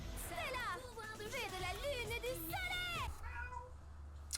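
A cat meows several times in close succession, the drawn-out rising and falling calls fairly near, followed by a brief quieter meow at the end.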